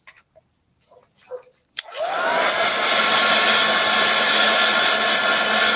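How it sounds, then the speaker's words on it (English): Hair dryer blast-drying a freshly applied coat on a craft project, switching on abruptly after a few soft handling noises, then a loud, steady close whooshing roar that continues without a break. "let's just give them a little bit of a blast dry"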